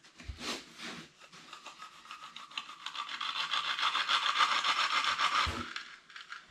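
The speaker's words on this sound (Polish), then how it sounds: "jest to tak wklejone, że płytka, płyteczka sobie szura" A loose, poorly glued ceramic tile shifts on its adhesive bed, making a close, gritty back-and-forth scraping that swells in the middle with short rubbing strokes, and no talk over it.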